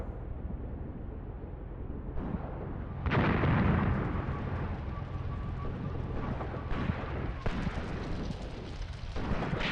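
Artillery fires in the war game Graviteam Tactics: Mius Front during the battle at Odintsovo. Dull booms and one sharp heavy blast rise out of a continuous rumbling battlefield din, with no talking.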